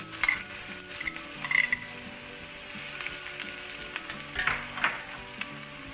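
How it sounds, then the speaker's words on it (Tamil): Chopped onions frying in hot oil in a pan for a mutton chops dish, a steady crackling sizzle with brief scraping stirs and clinks throughout, close and moderately loud, no talking. "ஸோ எண்ணெய் சூடானதும் நறுக்கி வச்சுருக்கிற வெங்காயத்தை போட்டுக்கோங்க."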